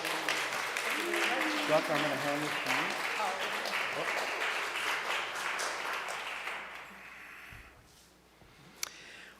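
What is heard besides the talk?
applause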